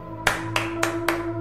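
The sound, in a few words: hands clapping in the dark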